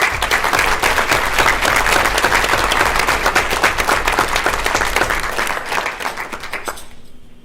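A school board meeting audience gives the girls' winter track team a sustained round of applause. The dense clapping is loud and steady, then thins and fades away near the end.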